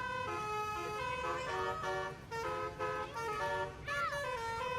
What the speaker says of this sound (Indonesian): sopir bus tersebut memainkan klakson teloletnya dengan asyik saat